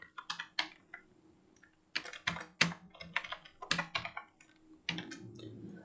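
Someone types on a computer keyboard, entering an HTML strong tag: crisp, close key clicks in quick bursts separated by short pauses, alone and fairly quiet.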